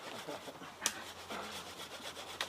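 A hand saw cuts through a tree trunk during garden tree felling, a steady rough back-and-forth rasping close by. Voices talk loudly over much of the sawing.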